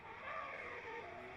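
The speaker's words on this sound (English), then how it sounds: "There's a nice sound off this car as well, like the M50 Turbo." A turbocharged BMW E36 drift car with an M50 engine roars at a British Drift Championship qualifying round, a steady, fairly distant engine drone held under high revs for the whole moment without any talk.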